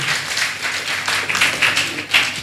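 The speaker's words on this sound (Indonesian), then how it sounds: "Tepuk tangan dulu untuk Kang Zaki." Audience applause at an Indonesian National Santri Day talk show, a dense wash of many hands clapping steadily for the full stretch, fairly close and loud, with no talking over it.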